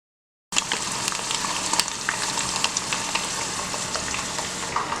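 Tofu pieces fry in a pan, a steady crackling sizzle with dense popping spatter that holds continuously, fairly close and moderately loud, with no talking.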